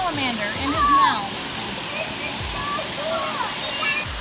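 A waterfall at a campsite pours out a steady, broad rush that fills the whole scene, while people talk over the constant roar.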